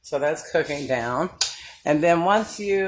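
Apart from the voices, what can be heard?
None of the usual background noises is heard.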